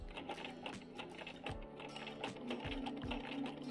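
A domestic sewing machine stitches a Christmas table runner, producing a close, steady rapid mechanical chatter with a few brief pauses and restarts, no talk.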